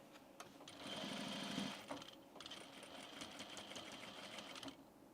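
A sewing machine stitches the seam allowance on a pair of men's pants, running as a steady close whir for about four seconds with a brief dip partway through.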